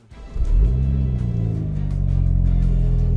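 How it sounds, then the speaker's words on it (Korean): A Mini Convertible JCW engine starts and settles into a deep, heavy exhaust rumble, loud and close, holding steady with slight revving swells. "작지만 아주 배기음이 웅장하면서 묵직합니다"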